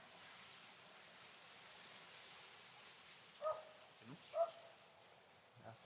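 A few faint, distant dog barks over a steady outdoor hiss, spaced irregularly.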